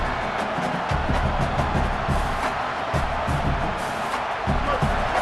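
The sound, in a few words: stadium crowd noise in College Football 27 video game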